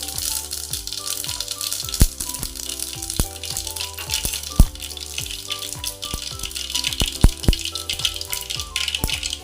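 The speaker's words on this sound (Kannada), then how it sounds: "ಸಾಸಿವೆ ಹಾಕ್ಕೊಳ್ತಾ ಇದ್ದೀನಿ ನೆಕ್ಸ್ಟ್ ಸ್ವಲ್ಪ ಜೀರಿಗೆನೂ ಹಾಕ್ಕೊತಾ ಇದ್ದೀನಿ" Mustard seeds and cumin sputtering in hot oil over a low flame, a dense run of crackling pops with sharper louder bursts scattered throughout, close and steady with no talking.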